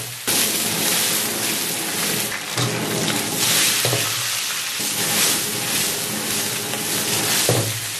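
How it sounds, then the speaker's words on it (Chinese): Fish bones frying in hot oil in a wok, a loud continuous sizzle with occasional scraping and turning noises, close and steady without any voices. "将鱼骨煎至两面金黄，这样煮出来汤才白"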